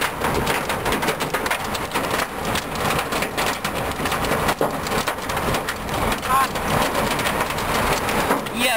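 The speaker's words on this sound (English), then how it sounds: "we have quarter size hail" Quarter-size hail falls during a severe storm three miles northeast of Pratt, making a dense, loud, continuous patter of hard impacts and splashes, with brief louder strikes scattered throughout.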